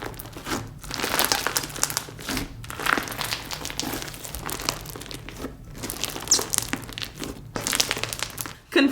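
Crunchy slime packed with confetti and unicorn mix-ins is squished and kneaded by hand, giving close, loud crackling and crinkling bursts in uneven waves with brief pauses between squeezes.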